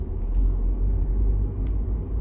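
A first car being driven by a learner in second gear, its engine rumbling steadily and fairly close with a continuous low drone throughout, no talk over it.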